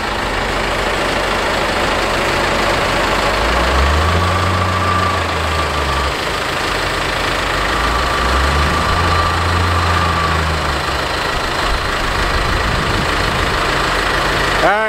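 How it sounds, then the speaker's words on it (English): A John Deere 544J payloader runs steadily nearby while loading bedding sand in a farm commodity shed, its diesel engine a continuous rumble that surges twice in load-bearing swells before settling back to an idle. "He's loading it with a 544J payloader"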